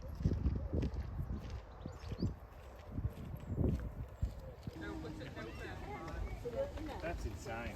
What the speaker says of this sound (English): Horses. What sort of horses are these?